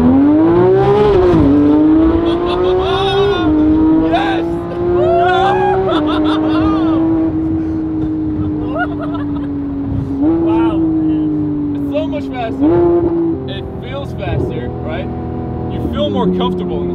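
A Ferrari sports car engine roars and revs repeatedly, pitch climbing and dropping through gear changes, loud and close throughout.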